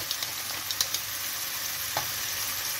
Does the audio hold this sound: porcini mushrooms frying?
yes